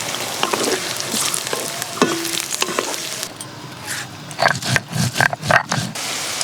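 Carrots, beans and other vegetables sizzle and crackle in a hot pan for fried rice, with spatula stirring and scraping bursts growing louder toward the end.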